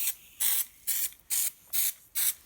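Six short, even hissing bursts from a spray nozzle, close and crisp, separated by brief pauses in a steady rhythm.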